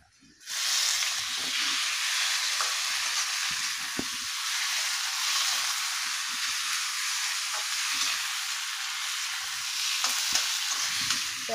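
Onion and tomato fry in a pan, a bright, steady sizzle that starts abruptly and holds for over ten seconds, with occasional soft stirring knocks and no talking.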